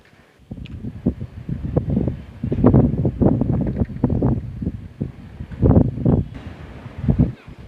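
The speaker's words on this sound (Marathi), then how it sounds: "त्याचवेळी वारा देखील जोरात आहे" Gusty wind during an unseasonal thunderstorm in the Navi Mumbai and Thane area buffets the microphone in rough, low rumbling bursts that rise and fall over several seconds.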